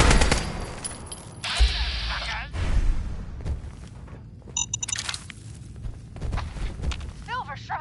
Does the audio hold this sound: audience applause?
no